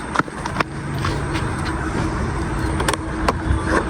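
A vehicle engine left running, a steady low rumble close by with a few sharp knocks and clicks over it.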